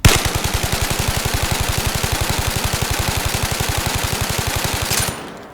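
Sustained full-auto burst from an assault rifle in the VR shooter Zero Caliber: a steady, rapid string of around fifty evenly spaced loud shots, close and unbroken, ending abruptly with a short tail.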